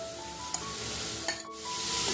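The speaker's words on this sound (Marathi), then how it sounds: "सर्वप्रथम मी या कढईमध्ये खोवलेला नारळ टाकते" A spatula scrapes and stirs grated coconut in a hot kadhai with a soft sizzle, punctuated by a couple of light taps.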